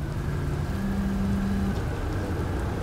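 Steady rain in the video game Outer Wilds, a dense, even hiss with a low rumbling undertone and a brief droning tone in the middle, continuous and close.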